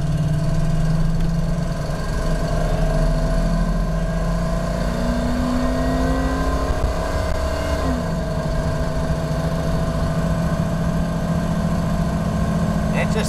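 A 302 V8 car engine accelerates hard up a hill incline from a slow cruise, a loud, steady, close roar with the pitch climbing partway through.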